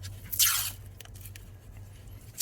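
Two quick bursts of cloth harness tape being ripped off a roll, one early and one at the end, with soft handling noises between, while bundling car wiring during a Kia K5 dashcam install.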